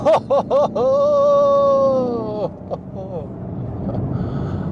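A 2017 Chevrolet Camaro SS with a 455-horsepower V8 roars as it accelerates hard, its rising exhaust note loud and close before easing off, followed by a person exclaiming.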